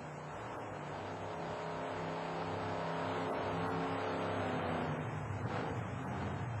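A 1991 red Ford monster truck at an indoor arena show, its ailing engine roaring loud and steady as the throttle is blipped, the revs rising and falling slightly.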